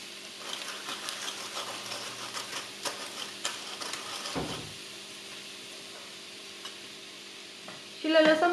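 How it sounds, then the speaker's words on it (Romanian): Onion and bell pepper frying in a pan for a Turkish-style eggplant dish, with a steady soft sizzle and intermittent scraping as they are stirred, fading quieter before a louder clatter at the end. "Apoi punem ceapa și ardeiul. Amestecăm."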